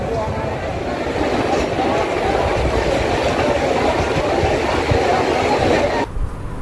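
Steady rumbling and rattling of a Krishnanagar local train at Sealdah station, continuous broadband noise that drops off abruptly near the end.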